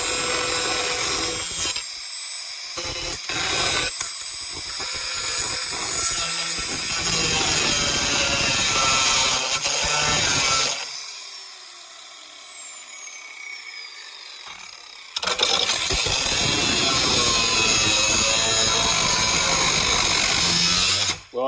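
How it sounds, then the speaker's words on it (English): Heavy power grinder cutting and grinding metal, loud and continuous with bursts that stop and restart, a pause of near silence midway, then grinding resumes at full strength. "I've done some more cutting and grinding, as you can see."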